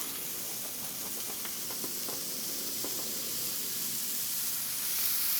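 Spicy southwest burgers sear on a Weber Slate griddle, a steady broadband sizzle and hiss that holds evenly throughout and swells slightly toward the end, with faint pops scattered through it and no voices.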